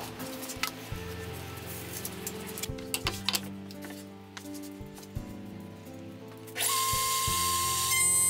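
Mechanical clicks and clunks from work on a table-saw router table, then near the end a router motor starts up loud and close, whining steadily as it cuts wood along a template.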